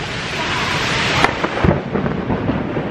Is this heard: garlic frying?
no